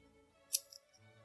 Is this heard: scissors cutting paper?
yes